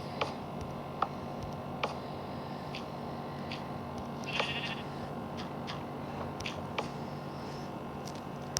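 A sheep bleats once in Minecraft Pocket Edition during sky-island survival play, a short, faint game sound among scattered soft clicks and ticks over a quiet background hum.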